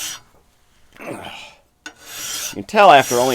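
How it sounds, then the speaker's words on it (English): A metal file is drawn along the tool rest of a wood lathe, with several harsh, close rasping strokes that grow louder and more rapid toward the end. "when you go to file this down, you basically try to match this angle"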